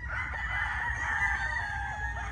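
A gray brood stag rooster of a yellow-legged hatch line crows in one long, drawn-out call, close and clear over a low background rumble.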